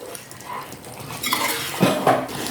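A spoon stirring chicken roast with pepper powder in a pan, with a few soft scrapes and metallic clinks against the pan over a faint background, no talking.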